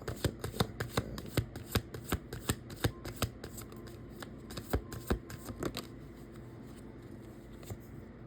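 Oracle cards being shuffled by hand in a close, dry series of quick riffling flicks and taps, dense at first and thinning toward the end, with no voices.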